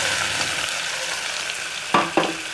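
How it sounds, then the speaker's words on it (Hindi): Chopped onions hit hot oil in a pan for a kathal korma, giving a steady close sizzle with two sharp stirring clatters near the end, no voices. "प्याज अपनी हम इसमें डाल देंगे"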